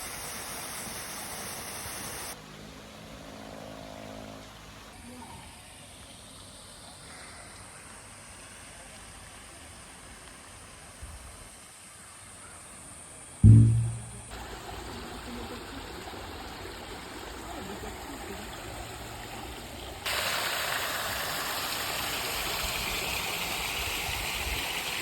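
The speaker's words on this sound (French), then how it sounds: "On voulait aller voir les cascades, on est servi." Rushing water at waterfalls in Bali, a steady broadband roar that shifts across several cuts, with one sharp thump partway through and people talking at times.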